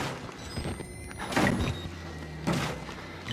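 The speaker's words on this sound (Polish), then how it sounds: "Zamkniemy drzwi." A door closing in the horror video game Outlast, with two broadband thuds about a second apart over a low game ambience; no talking.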